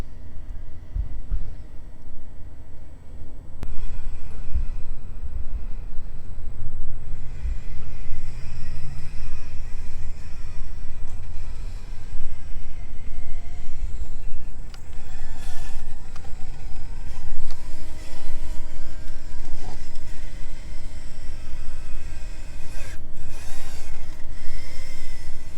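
An RC crawler with a two-speed motor and transmission, a 1/24-scale SCX24 on heavy wheels, creeps along slowly with a steady low motor whir and gear hum that runs throughout, close and fairly even in level.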